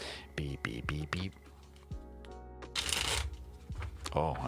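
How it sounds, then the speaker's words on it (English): Tarot cards being shuffled during a live reading, with several quick riffling bursts near the start and a longer rustling shuffle toward the end, close and moderately loud, a voice talking between them. "Apparently we needed to get you a nice, good, big shuffle."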